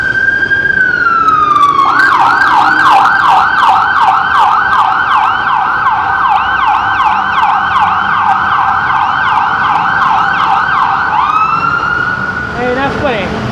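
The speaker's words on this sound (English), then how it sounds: "you ain't gonna hear no ambulance sirens like that" An ambulance siren passes outside, loud and close, rising into a steady wail and then switching to a rapid, pulsing yelp for about nine seconds before easing back to a wail.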